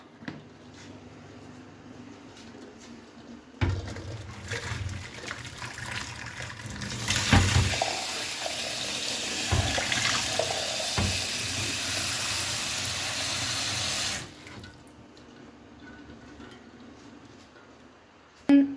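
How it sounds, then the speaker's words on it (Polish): Cold water gushes from a kitchen tap over just-boiled eggs in a pot, a loud steady splashing rush lasting about ten seconds, starting abruptly and cutting off cleanly, with quieter handling before and after. "Wyłączamy jajka, zalewamy je zimną wodą i zostawiamy je do ostudzenia."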